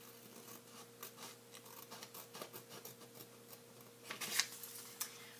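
Scissors snip through origami paper in a series of short, quiet cuts with light paper rustling, a brighter crisp snip near the end, all close up with no talking.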